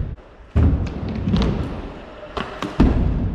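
A skateboard thuds and clatters on a skate box after a failed feeble grind, with a heavy slam followed by scraping and a couple of sharp wooden knocks, close and loud outdoors.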